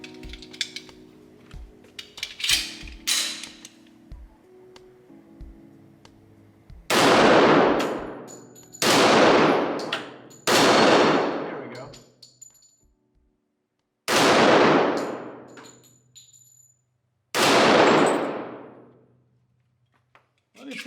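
Smith and Wesson SW1911 E Series pistol fired at a target on a range, with five loud, booming shots spaced a few seconds apart and long decaying echoes, preceded by metallic handling clinks and talking.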